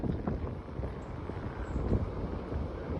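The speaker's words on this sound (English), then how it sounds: "Yeah, it's quite a strong wind." Strong wind buffets the microphone outdoors at Ventnor during early-morning birding, a steady low rumbling roar with gusty swells and no voices.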